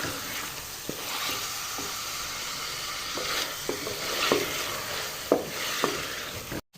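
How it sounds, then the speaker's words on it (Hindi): Chicken handi fries and gets stirred in a pot, a steady sizzle broken by scattered scraping clicks of the spoon, close and moderately loud, with no talking. "अच्छे से भूनना है ताकि जो चिकन में स्मेल होती है वो ख़त्म हो जाए"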